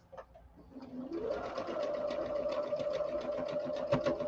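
A sewing machine stitches a quilt seam without turning, running steadily after a brief start-up whir, its rapid even needle clatter close and continuous with a few slight bumps.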